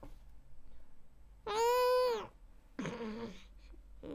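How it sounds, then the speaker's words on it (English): A cat meows twice, a long drawn-out call followed by a shorter one, close and clear against a quiet background. "Meow,"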